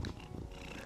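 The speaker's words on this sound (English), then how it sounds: "do you hear him purring?" A cat purrs steadily and close, a low continuous rumble with no talking over it.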